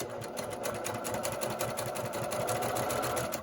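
Steady rapid stitching of a sewing machine chain-piecing quilt strips with a quarter-inch seam, close and continuous, an even mechanical chatter without pause and no speech.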